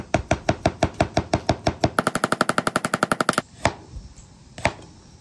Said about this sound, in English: We're just going to slice the garlic thin,